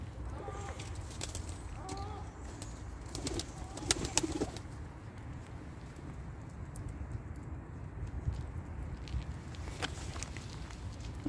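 Game pigeons cooing inside a loft in Pendik: soft, low coos repeat a few times early on over a faint room hum, with scattered light clicks and shuffles from the birds.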